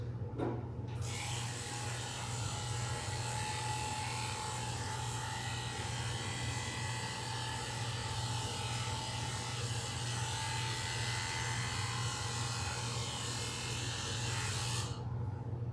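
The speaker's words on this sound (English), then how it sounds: "Now we'll grab our number 10 blade and start by shaving the inside of her ears." Electric dog clippers with a number 10 blade buzz continuously and close up while shaving the inside of a doodle's ears, a steady loud hum with slight rasping changes as the blade moves.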